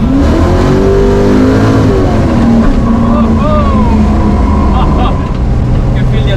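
A 1966 Pontiac GTO with a 535ci big block engine accelerates hard, its engine rising in a loud, close roar, with a voice briefly heard beneath.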